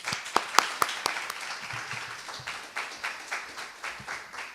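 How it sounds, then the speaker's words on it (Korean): An audience at a university lecture event applauding to welcome a professor to the stage, a moderate room of clapping with a few sharp, prominent claps up front, thinning out toward the end. "김용근 교수님을 큰 박수로 모시겠습니다"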